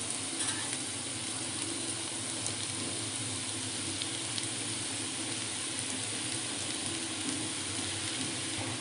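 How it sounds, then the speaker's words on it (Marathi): Cooked rice added to a sizzling pan with oregano and chili flakes, an even, moderately quiet frying hiss with faint clicks and stirring scrapes, continuous throughout and without speech. "आता आपल्याला राईस ॲड करायचं आहे आपण राईस ॲड करून घेणार आहोत"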